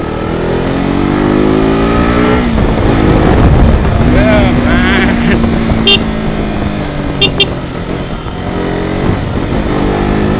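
A KTM RC 200 motorcycle, freshly serviced, being ridden. Its engine note rises and falls through gear changes under heavy wind rush, with brief high clicks near the end.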